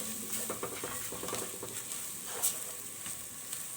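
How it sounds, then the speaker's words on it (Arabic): Onion fries in a pan with spices, a soft steady sizzle with light stirring scrapes and occasional faint taps, fairly quiet and uninterrupted. "نبتدي كده في المرحله دي نضيف التوابل بتاعتنا كلها مع البصله كده."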